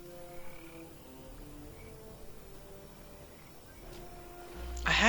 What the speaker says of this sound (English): when you're down by the water, all you hear is like a frog type sound